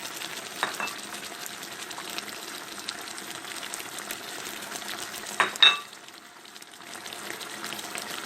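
Garlic fries softly in a pan while paella is being prepared, a faint continuous sizzle with a brief louder clatter midway.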